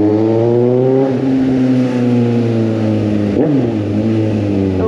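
A Suzuki GSX 750 motorcycle with an open exhaust pipe, its engine revving loud and close in a steady drone that dips briefly as gears shift without the clutch.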